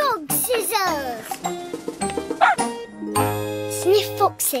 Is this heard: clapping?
no